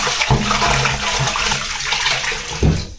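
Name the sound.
rinsing flattened rice (poha) with water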